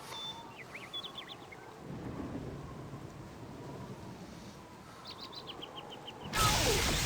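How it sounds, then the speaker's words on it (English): Lightning strike thunder in the Baldur's Gate: Enhanced Edition video game, a low rumbling crack that rises midway and ends in a loud close burst, with faint bird chirps in the ambience and no talk. "Khalid just got struck by lightning."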